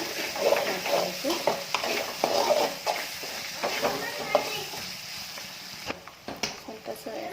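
A spoonful of ginger garlic paste fries in a pan for quick egg rice, with a soft sizzle under repeated close scrapes and clicks of a spoon stirring it.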